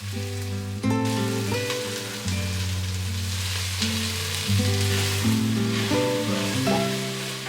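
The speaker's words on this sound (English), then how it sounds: "Then saute onion till soft." Onion sautés in coconut oil in a cooking pot, a steady soft sizzle running under prominent tonal background music with no talking.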